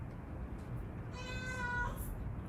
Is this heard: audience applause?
no